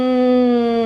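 A single voice hums a steady, sustained nasal "nnn" tone imitating an aeroplane flying overhead. It is close, loud and unbroken for under a second.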